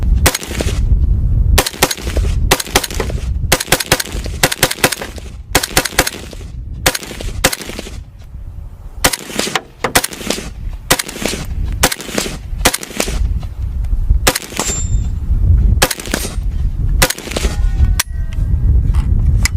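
Rapid single gunshots from a semi-automatic rifle, a dense series of loud, sharp cracks fired close by at an uneven, quick pace, with no talking.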